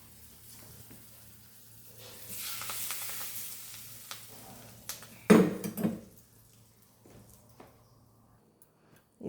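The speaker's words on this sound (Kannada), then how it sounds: "ಒಂದು ಸ್ವಲ್ಪ ಇದನ್ನಿಷ್ಟು ಹಾಕಿ ಬೇಕಾದಷ್ಟು ಕರಿಬೇವು ಹಾಕಿ" Curry leaves dropped into a hot pan of oil for egg curry, with flame turned low, give a hissing sizzle that swells, then a sharp burst of crackling spatter, with some utensil clatter, fading to quiet.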